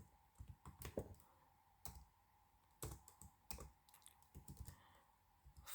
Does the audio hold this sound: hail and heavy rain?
no